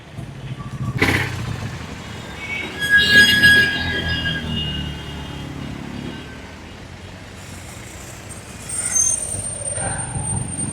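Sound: road traffic in Prayagraj

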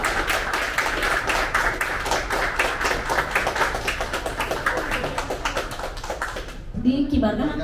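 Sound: audience applause

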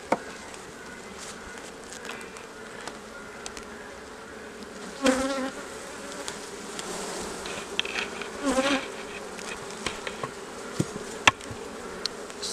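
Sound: honey bees buzzing around a hive frame

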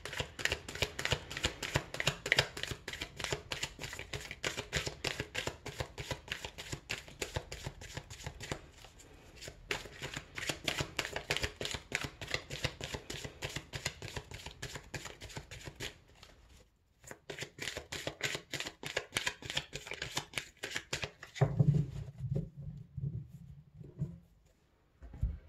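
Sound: shuffling tarot cards

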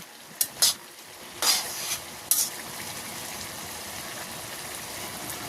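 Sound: bottle gourd frying while its water cooks off

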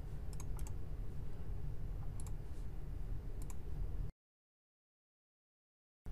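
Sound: mouse clicks while setting hyperlinks in PowerPoint

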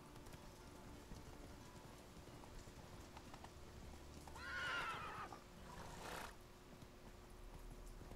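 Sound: horse Roach neighing and hooves in The Witcher video game

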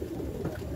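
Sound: pet birds cooing

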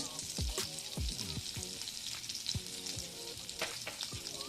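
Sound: butter, oregano, chili flakes sizzling in hot kadai

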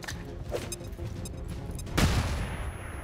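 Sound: flashbang grenade thrown in video game XCOM 2

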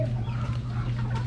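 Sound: rooster clucking while being fed

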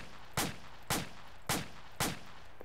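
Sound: M16A4 rifle gunfire from the video game ARMA 2

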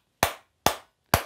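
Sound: clapping toy monkey in haunted escape room

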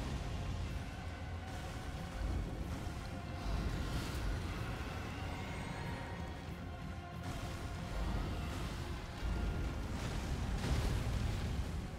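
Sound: explosion in Elden Ring: Shadow of the Erdtree video game

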